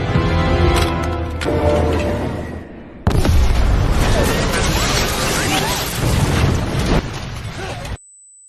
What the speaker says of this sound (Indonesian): Serpian dari ledakan mobil